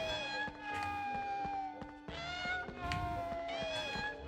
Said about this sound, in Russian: Но мяукают они отвратительно.